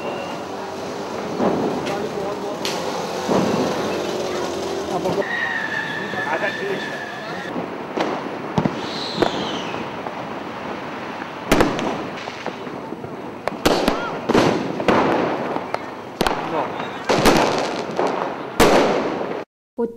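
Firecrackers burst during a crowded festival, sharp pops and cracks scattered irregularly over a dense background of crowd noise and voices, growing louder and more frequent toward the end.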